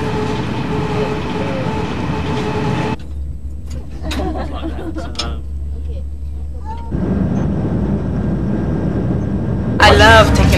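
A Eurostar train travels along, a low rumbling drone that shifts in character partway through, with sections of quieter running between louder stretches and a burst of higher noise near the end.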